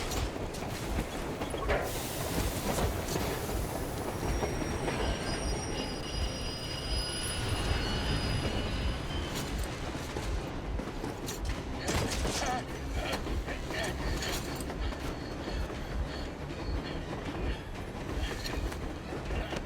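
A train in the video game Metro Exodus rumbles steadily along the tracks with metallic squeals, creaks and clanking throughout, loud and continuous.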